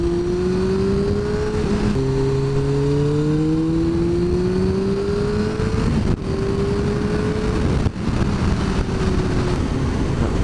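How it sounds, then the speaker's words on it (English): A Suzuki GSX-R 929 sport motorcycle engine runs steadily and loud, its tone rising and shifting through gears with two brief drops in between, and no voices present. "Definitely not as touchy as my gsx-r."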